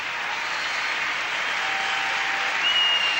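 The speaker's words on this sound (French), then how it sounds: "Et Surya qui en termine de son programme sous les ovations du public." Spectators at a 1995 European figure skating championship, ladies' free skate, give an ovation in an arena: dense, steady applause, fairly loud and unbroken, swelling slightly at the end.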